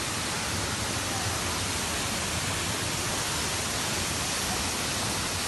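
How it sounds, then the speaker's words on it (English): Sidhamula Deojhar waterfall roaring in a steady, dense wash of noise that fills the whole span without pause or change, close and loud, with no voices over it. "We are here to see the waterfall."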